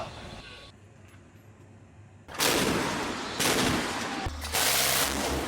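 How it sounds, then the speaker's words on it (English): Heavy naval gunfire from the Chinese ship Changbaishan during a live-fire drill in the South China Sea, with loud booming blasts arriving in three bursts after a quieter stretch of wind and sea noise. "After identifying the target, the Changbaishan ship took the lead, striking and successfully destroying the enemy target."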